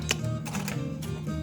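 Someone types on a 1949 Royal Arrow manual typewriter, and a quick flurry of sharp mechanical key strikes sits close up over a low steady hum.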